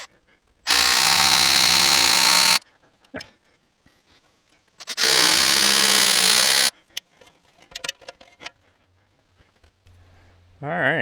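Power drill driving lag screws into a lean-to roof on a sawmill shed, two long loud sustained bursts of whirring separated by quieter handling clatter and a brief voice, with another burst starting at the end.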